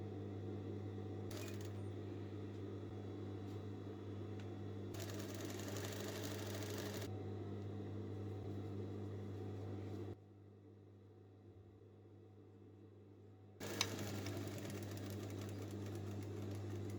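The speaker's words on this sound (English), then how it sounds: "we're going to sew it down. Right side to right side." Sewing machine stitching down a seam on denim during a jean-to-vest upcycle, a steady close mechanical whir with short bursts of faster stitching, pausing briefly before starting again.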